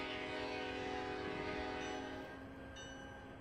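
An Amtrak locomotive horn in Trainz Simulator 3 blares as a sustained, loud multi-tone chord, holding steady for about two seconds before dropping off, with train rumble continuing underneath.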